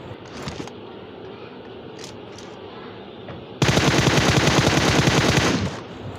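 M4 rifle fire in a shooter video game: after quieter ambient sounds, a loud, rapid, sustained automatic burst runs for about two seconds, close and dominant.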